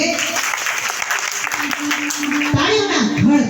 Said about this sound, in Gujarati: તાળીઓના ઘડઘડાટથી વધાવી લઈએ